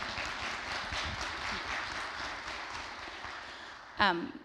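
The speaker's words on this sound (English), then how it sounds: "Can I get a round of applause for that?" Audience at an awards ceremony for teachers gives sustained applause, a broad, steady clatter of many hands that tapers slightly before a voice speaks near the end.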